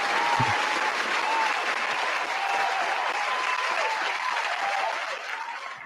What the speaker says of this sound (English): Okay, that clap is kind of long.